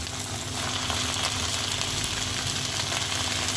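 Steady, dense sizzling of onions frying with ginger paste, onion paste and tomatoes in a pan, loud and close throughout with no voices.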